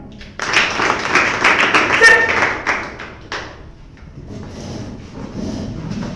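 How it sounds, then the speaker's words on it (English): A class of students claps for their classmates, a loud burst of dense clapping that lasts about three seconds before dying down to a quieter room. "Now the rest of you clap for them"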